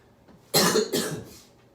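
A single loud cough, two harsh bursts close together, breaks a quiet background and trails off quickly.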